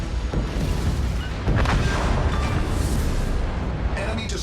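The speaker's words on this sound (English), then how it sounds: "Enemy destroyer sunk." Enemy destroyer exploding and sinking in the naval battle game World of Warships: Legends, a dense, loud rumbling roar of blasts and crashes that fills the whole stretch without pause.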